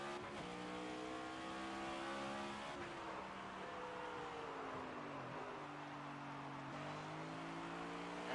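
A NASCAR 25 stock car runs a backwards lap at North Wilkesboro in the video game. The engine holds a loud, steady drone throughout, its pitch rising and falling with the throttle and gear changes, with no talk.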